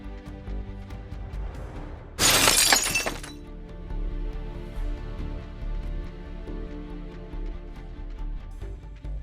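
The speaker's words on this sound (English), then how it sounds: "This thief's biggest enemy wasn't the employees, it was the glass." A thief crashes face-first into a glass window, which shatters in one loud, sudden burst lasting under a second, set against steady background music that continues before and after.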